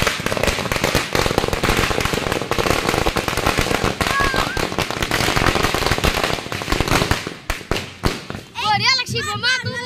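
Firecracker bombs burst in rapid, loud crackling volleys during a Holi celebration, a dense close barrage that thins out near the end as excited voices shout over it.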